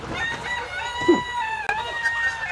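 A rooster crows on a chicken farm in Jaffna, one drawn-out cock-a-doodle-doo, fairly close, with clucking hens and faint farmyard background noise.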